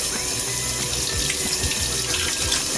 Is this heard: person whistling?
no